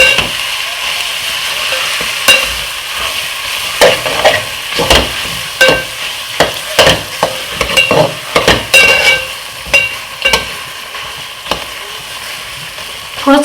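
Khoya being stirred continuously in a sticking pan for halwai-style carrot halwa, loud scraping and knocking of a spoon against metal in irregular bursts over a soft frying hiss, no talking.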